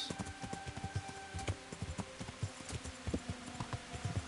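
Horse hooves clip-clop at a steady walking pace in the video game Kingdom Come Deliverance, with close, evenly spaced thuds over a faint ambient background and no talking.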